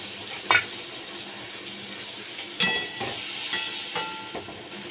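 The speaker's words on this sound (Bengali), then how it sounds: "মাছগুলোকে দিয়ে আমি ভালো করে কষিয়ে নিচ্ছি।" Parshe fish sautés in a pan with a soft, continuous sizzle. A few sharp scrapes of the stirring utensil come at irregular intervals.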